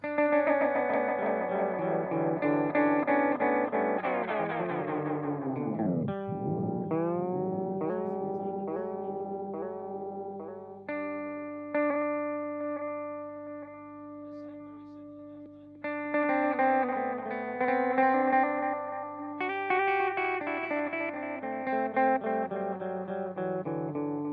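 An Echo Park tape echo effect plays a sustained tone that repeats and smears into layered, wavering echoes. The level stays steady and loud throughout, with no talking.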